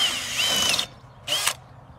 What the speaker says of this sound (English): And if you have a hammer drill, turn that hammer on.